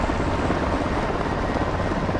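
Helicopter flying in Call of Duty: Modern Warfare II on PlayStation 5, a steady, loud rotor drone that fills the whole short stretch with no speech.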